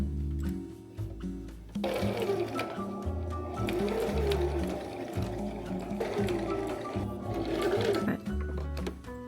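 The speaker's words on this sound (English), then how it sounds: "I placed the sewing pins perpendicular to my sewing line to prevent the cloth from shifting under the presser foot, and then I started sewing" A sewing machine stitches cloth while a home sewer alters clothes, its motor whirring in steady bursts that start, pause briefly and run again at close range, with no talking.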